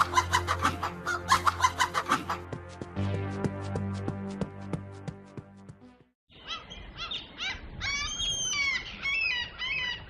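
Chickens cluck in a rhythmic series of close calls, followed by busier, higher-pitched bird chirping.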